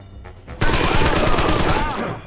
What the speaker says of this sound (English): So this is a 5-shot burst on the machine guns.